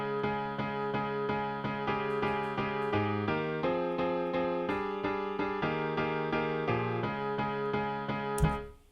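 A synth sounds a chord built from an interval over a pedal tone, pulsing rhythmically through several changes with no voices, then ends in a brief burst.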